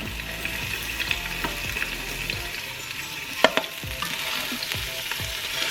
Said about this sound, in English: And we're just going to sear them until they're nice and brown